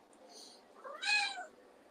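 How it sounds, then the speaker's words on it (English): A cat yowls indoors, a short drawn-out meow rising and falling in pitch, preceded by a fainter brief cry, fairly close and alone against a quiet background. "I can hear this yowling cat"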